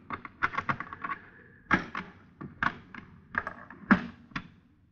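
A suitcase being opened during a customs-style inspection, heard as a series of sharp knocks, clicks and thumps of latches and lid, close and moderately loud, irregular over several seconds with no talk.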